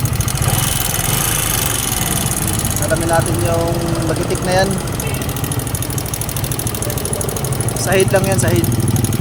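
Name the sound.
engine running loudly after being started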